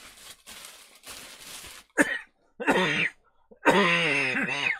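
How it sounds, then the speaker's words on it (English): Several harsh, close coughs come in bursts, ending in throaty, spluttering hacks with brief pauses between them. "coughing and spluttering so much"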